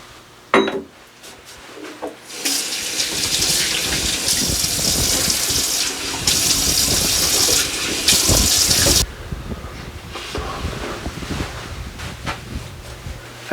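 Running tap water splashing as a face is wetted and warmed before a shave with a straight razor, a loud steady rushing spray for several seconds that stops and then leaves quieter room noise.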